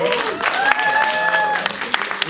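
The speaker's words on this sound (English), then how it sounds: "let's give one more round of applause" Audience applause at a film festival Q&A in Manila, a crowd clapping steadily with a few sharper individual claps near the end, while a voice carries a tonal sound over the top.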